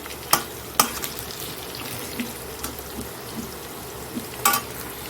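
Pieces frying in a pan while chicken curry is cooked, a low continuous sizzle broken by several sharp clacks and knocks as pieces are moved, close and with no talking.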